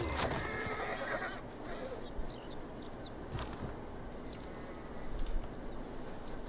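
Horse whinny from a barbarian horse archer unit in the strategy game Civilization VI, a neigh over hoof clip-clop and game ambience, with a voice talking underneath.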